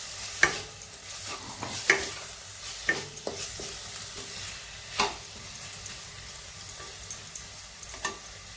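Onion frying with a spoonful of salt in a pan, a steady low sizzle under irregular scraping and stirring clatters, fairly close, with no talk.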